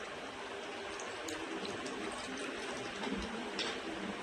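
Water pours into a bowl, a faint, continuous soft trickle with a few light ticks over quiet background hiss.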